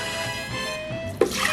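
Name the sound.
water being poured for vegan hot chocolate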